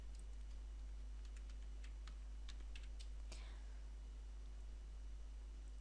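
Faint, sparse keystrokes on a computer keyboard while entering web page code, a few scattered clicks clustered in a short burst over a steady low electrical hum, with no talking.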